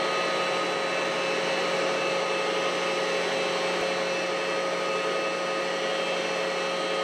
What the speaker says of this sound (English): letting the lathe kind of warm up a little bit